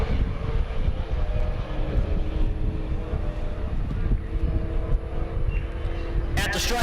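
Drag racing at a dragstrip during a race week event in Great Bend, Kansas, with a Mazda and a Fox-body Mustang racing side by side: a loud, sustained engine roar fills the scene, with a public-address voice speaking over it.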